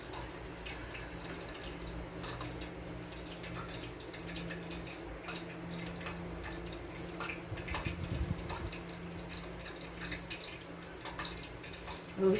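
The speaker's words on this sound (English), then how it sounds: "You hear something from the water drop off my fingers." Water drips off fingers in a home kitchen while a meal is being prepared, making faint, scattered little ticks and drops over a low, steady background hum.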